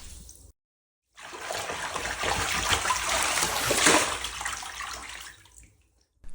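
Water splashes and sloshes in a filled bathtub, layered into a steady, dense wash for several seconds, starting after a short gap and fading out near the end.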